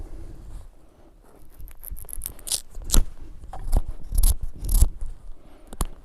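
Knife blade cutting into walnut scion bark during grafting, heard as short close scraping and slicing strokes with small crisp clicks, irregular and quiet, with no talk.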